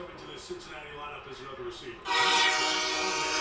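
A train horn blares through a football stadium during a Buffalo Bills versus Cincinnati Bengals game, entering loud and sustained partway through over crowd noise and talking.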